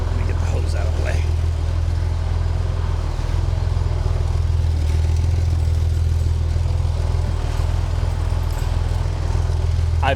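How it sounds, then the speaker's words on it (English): A Chevrolet Corvair engine drones through its exhaust while the car drives, a continuous low, throbbing mid-pitched hum with some revving. A person talks over it at times. "I wonder if this exhaust is too restrictive. It really sounds like it."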